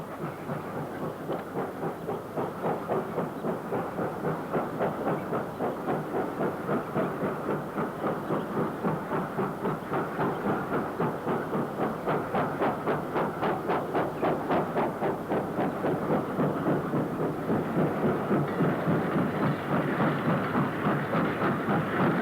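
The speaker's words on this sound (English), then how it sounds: "passing the connection up to Bolton Street in 1968 is Black 5 44947 on a Class 7 unfitted freight" Black 5 steam locomotive 44947 hauling a Class 7 unfitted freight train past a junction in 1968, wagons rolling by with a steady rapid clatter of wheels over rail joints, loud and close throughout.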